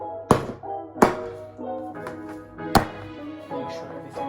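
Cake tins of banana and walnut batter banged down on a kitchen counter to settle it, three sharp, loud thunks spaced about a second apart, with a softer knock between them and faint kitchen rattling.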